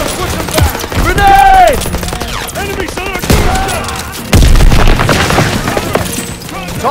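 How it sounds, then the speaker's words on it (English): A grenade blast in a WW2 video game battle amid heavy automatic gunfire, with loud booms and whistling effects over rattling shots, shouted game voices mixed in. "Grenade!"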